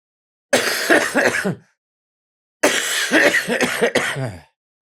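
Two separate bursts of rough coughing and throat clearing, each lasting about a second, close to the microphone with a pause between.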